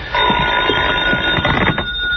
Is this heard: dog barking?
no